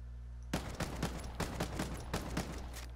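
An M4 assault rifle fires in the video game Ghost Recon Breakpoint: after half a second of quiet, a rapid string of about eight sharp, close gunshots rings out in an even, steady rhythm with no talk.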